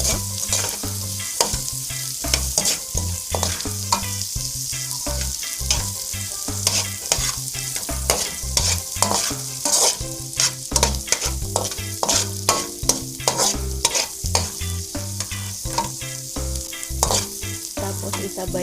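Onion stirred in olive oil in a frying pan for scrambled eggs with cabbage: a steady sizzle with rapid, irregular scraping and tapping of the spoon against the pan, close and fairly loud throughout.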